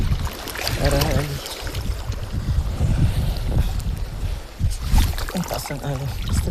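Rough sea waves and gusting wind batter a small fishing boat, a constant loud wash of wind noise and splashing water with people talking over it.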